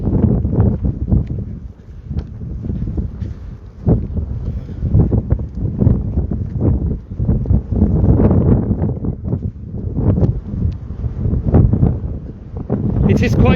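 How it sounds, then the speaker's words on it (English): Gusty wind buffeting outdoors on a hilltop street in Beitar Illit, rumbling in uneven bursts with someone talking over it. "It is quite windy"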